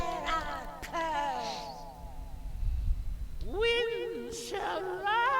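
A cat meows repeatedly in a video game, a couple of wavering mid-pitched cries early on and a longer, louder drawn-out yowl near the end, with game background and a soft voice underneath.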